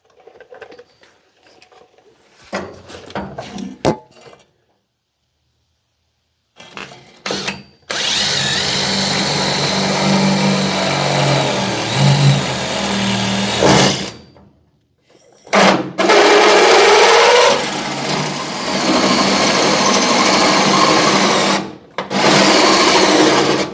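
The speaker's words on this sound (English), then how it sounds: "I'm just going to send it and drill a hole there" A power drill whirs in long sustained bursts, pitch shifting under load as it bores through material on a 1964 Chevrolet Impala, with brief pauses and clicks between runs.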